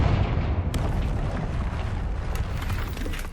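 A Confringo spell explosion in the video game Hogwarts Legacy: a loud, rumbling fiery blast right at the start that rolls on as dense, crackling debris noise, with a few sharp pops scattered through it.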